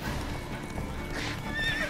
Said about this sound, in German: Wobei Pferdepanik.